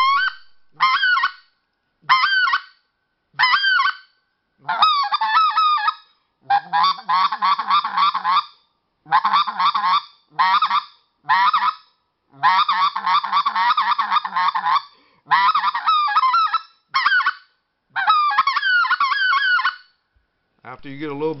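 A handheld goose call blown in imitation of goose honks: a long series of loud, close, clipped honks and double-note calls in irregular bursts with short gaps, heard alone.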